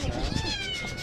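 Kittens meowing at a busy open-air street market, several close, plaintive cries overlapping in quick succession against crowd noise.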